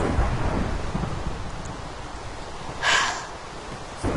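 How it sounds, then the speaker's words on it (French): Rain falling in the video game Minecraft, a steady soft patter with low rumbling underneath and a brief brighter whoosh near the end, fairly quiet. "C'est à cause de la pluie."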